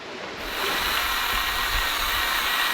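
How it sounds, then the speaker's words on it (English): A steady, loud motorized whine and hiss starts after a brief quiet moment and runs continuously as a small chainsaw cuts into a palm tree. "Using the baby chainsaw to get a bite in there."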